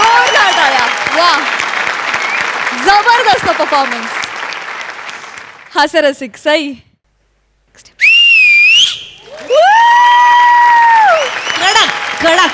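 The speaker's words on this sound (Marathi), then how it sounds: "जोरदार टाळ्या जोरदार टाळ्या." A studio audience at the Maharashtrachi HasyaJatra comedy show applauds loudly with whistles over music, interrupted by short gaps while a host speaks.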